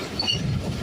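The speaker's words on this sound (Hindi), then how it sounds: "खैराबाद कुंड के जो टनल्स हैं दोस्तों, वहाँ से पास कर रही है 14 डाउन अवाम एक्सप्रेस।" Awam Express 14 Down, pulled by a Chinese locomotive, rumbling through the Khairabad tunnels in fog and rain, a steady low roar with faint high squeals over it.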